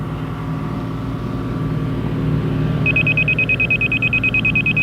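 A laser level receiver's steady, solid electronic beep tone starts partway through and holds, over a continuous low rumble of background noise at a blacktopping site.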